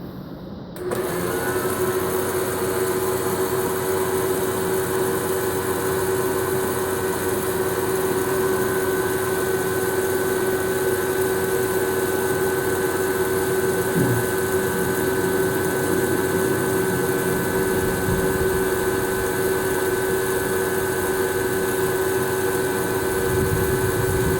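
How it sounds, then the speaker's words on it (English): A Nesco Professional coffee roaster starts up with its auger spinning, then keeps up a steady, fairly loud mechanical hum with a constant whine for over twenty seconds, no talk. "We're going to go ahead and hit start, and you're going to see the auger start to spin."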